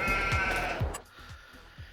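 Several sheep bleat in a Farming Simulator 22 pen, a close overlapping chorus of calls up front that thins into a few softer, spaced bleats.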